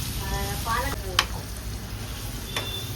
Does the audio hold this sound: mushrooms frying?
yes